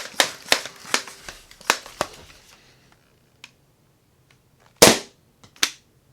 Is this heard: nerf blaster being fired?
yes